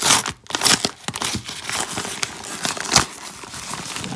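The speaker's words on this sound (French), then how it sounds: "papier bulle." Plastic bubble-wrap packaging crinkles and crackles as it is unwrapped, with irregular close rustling and a few sharper tearing bursts throughout.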